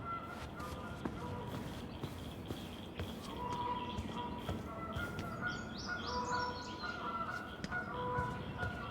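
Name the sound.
birds chirping in the video game Tell Me Why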